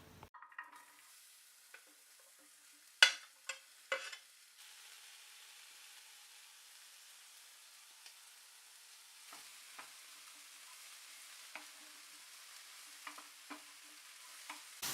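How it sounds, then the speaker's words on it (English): Onion, mushrooms, garlic and ginger fry in a pan with a low, steady sizzle, broken by a few sharp clinks and scrapes of stirring early on and scattered fainter taps later. "put the onion, mushrooms, garlic and a tablespoon of the ginger back into the pan to start frying off"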